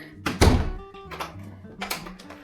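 A door opens with a heavy thunk followed by a few more knocks and rattles of the door, close and fairly loud, with no talking.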